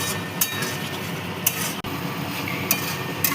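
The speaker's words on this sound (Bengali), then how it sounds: "এবার মশলার সাথে আলুটাকে ভালো করে কষে নেব।" Spiced potatoes with kasuri methi being stir-fried in a pan for a Bengali potato and egg dish, a steady low sizzle with periodic sharp clinks of the spatula against the metal pan.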